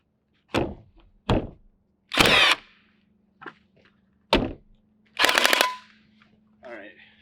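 A nail gun fires into siding boards, giving loud, sharp single bangs spaced about a second apart, some followed by a short burst of air hiss, with quiet pauses between shots.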